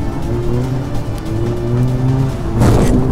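A demolition derby car revs hard as it pulls away, its engine droning loudly and steadily with tyres squealing, then a louder burst of rough noise near the end.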